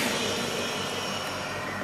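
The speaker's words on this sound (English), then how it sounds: "Turn on the vacuum engine." Vacuum pump engine on a 3D air forced vacuum heating machine used for bending curved glass, a steady loud broadband roar with a low hum running unchanged through the whole short stretch.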